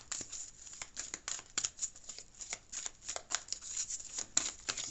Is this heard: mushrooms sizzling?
no